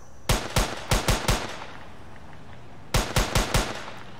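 Gunfire in an Unreal Engine 4 game in sniper mode: a quick burst of five sharp shots, a pause, then a second burst of four, loud and close with no talk.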